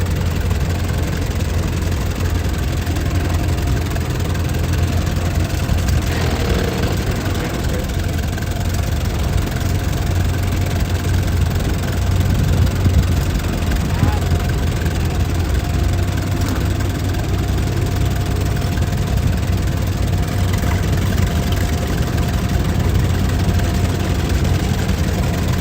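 Antique tractor engine rumbling steadily at a tractor pull held in the rain at a fairground, a loud low continuous drone with some knocking and vibration, heard from a distance with no talk.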